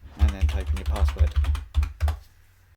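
A password being typed on a computer keyboard, a quick run of about a dozen close key clicks in an uneven rhythm, then stopping.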